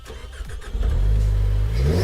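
AMSS CMV race car engine cranking and catching, then settling into a loud, steady close-up idle with a low rumble for the rest of the moment.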